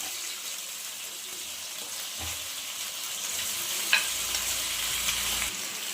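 Fried chicken pieces go into a sizzling pot for biryani, giving a steady, quiet hiss of hot oil with a faint stirring scrape and a brief metallic clink partway through.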